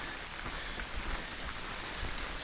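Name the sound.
rain while walking in the mountains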